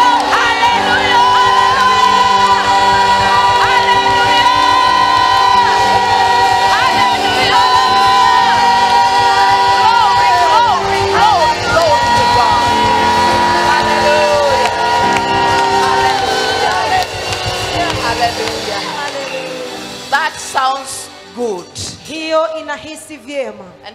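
A church congregation at a Saturday service shouts and cheers loudly over sustained music, a dense roar of voices that drops away near the end into scattered yells.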